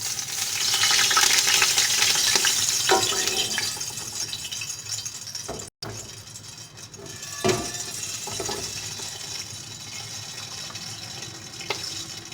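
Oil being poured into a pot after chicken was fried in it for chicken pulao, a steady broadband rush of pouring liquid and sizzle with a few utensil knocks, close and continuous, a brief dropout midway.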